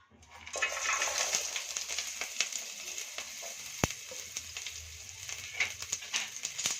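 Cumin, ginger, garlic, cardamom, cinnamon and cloves fry in hot oil, a sizzle that swells within the first second and continues with crackles and spatters, plus a sharp knock near the middle.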